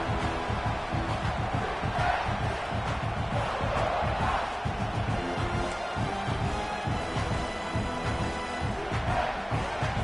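A large college football stadium crowd roars before a big play, a loud, sustained wall of cheering and shouting that swells and dips slightly without letting up.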